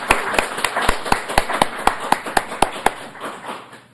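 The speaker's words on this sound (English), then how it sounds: "Let's all give a hand clap." A small committee meeting audience claps hands in a steady, fairly even rhythm of sharp, close slaps that gradually thin out and fade toward the end.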